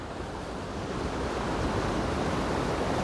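Hull Creek Falls in Pennsylvania pours out a steady, dense rush of water, a broad even roar close by that holds constant throughout with no voices over it.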